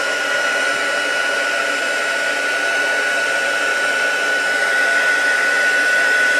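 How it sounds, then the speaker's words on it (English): A heat gun runs continuously, warming up before melting embossing powder on a handmade Christmas ornament, giving a steady, close, even blowing whir with a faint high whine throughout and no talk. "You want to let that heat gun heat up for 15-20 seconds before you start running it over the embossing."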